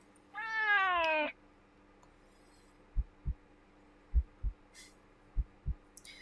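A cat in a video game lets out one clear, drawn-out meow, followed by quiet paired heartbeat-like thumps repeating at a slow steady pace over a low hum.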